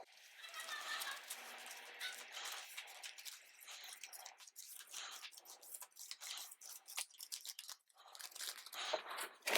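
Papery riffling and crisp snapping of cards being shuffled, close and continuous, with soft crunchy crinkles throughout.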